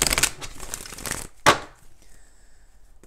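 Tarot cards riffle and snap in a brisk shuffle, a quick run of close papery flutters ending in one sharp slap, followed by quiet.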